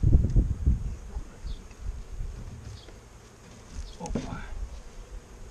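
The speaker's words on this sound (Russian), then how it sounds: "Погода сегодня теплая, но пчелы ведут себя беспокойно." Restless, agitated honey bees buzz around an apiary hive on a warm day, a steady droning hum with individual bees passing close, and a brief voice speaking Russian is heard.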